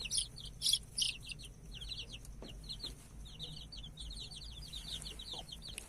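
Aseel chickens clucking softly in short bursts at a distance, with faint bird chirps over a quiet outdoor background.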